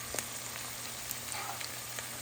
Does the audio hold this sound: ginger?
yes